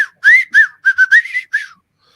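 A person whistling a wolf-whistle style tune, several bright rising and falling whistled notes in quick succession, loud and close, then silence.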